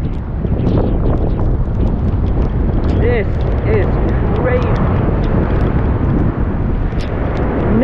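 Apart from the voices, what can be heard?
strong ocean waves during a typhoon, with wind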